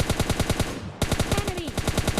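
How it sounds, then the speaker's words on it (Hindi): Rapid automatic gunfire from a bot in the video game PUBG, a loud, fast, evenly spaced burst that breaks briefly and then resumes at the same rhythm. "जब हम लोग यहाँ से निकल रहे होते हैं तो हमें कुछ बोट चाचा की गोली चलने की आवाज़ आती है।"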